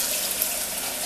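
A cup of rice soaking and being washed in water, heard as a steady, close wash of running or sloshing water throughout.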